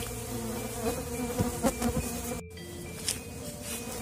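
Stingless klanceng bees hum around a nest box set on a house foundation, a steady close insect drone with individual bees buzzing past, and a short dropout partway through.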